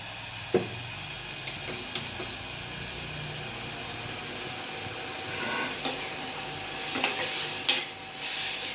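Masala for a Maharashtrian toor dal dish cooking in oil until the oil separates, giving a constant hissing sizzle with occasional clinks and scrapes of a spoon against the pan, close up and with no speech.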